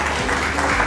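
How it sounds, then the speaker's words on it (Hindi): Brief burst of dense audience clapping at an award ceremony, loud and continuous throughout. "एक बार जोरदार तालियां हो जाए।"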